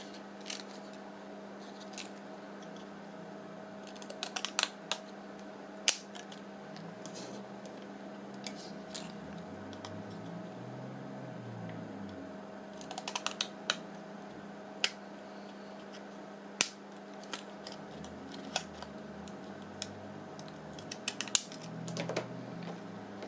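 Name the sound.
scissors cutting out paper for a journal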